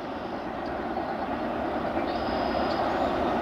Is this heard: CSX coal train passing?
yes